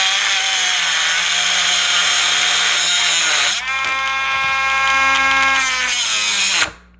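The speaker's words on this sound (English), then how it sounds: "That's a thick rod, so I'm not going to try to force the Dremel through it too fast" A Dremel rotary tool grinds through a thick rod with a loud, sustained high whine whose pitch shifts midway as the load changes, then cuts off abruptly at the end.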